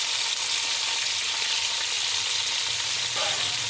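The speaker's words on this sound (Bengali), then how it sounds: "খুব ভালো করে পাঁচ মিনিট ধরে আমি এই মাংসগুলো এই হালকা তেলের মধ্যে শ্যালো ফ্রাইয়ের মতো করে নেবো" Chicken pieces shallow-frying in a little oil for chicken biryani produce a loud, dense, continuous sizzle close up, with a faint scrape of a utensil near the end and no one speaking.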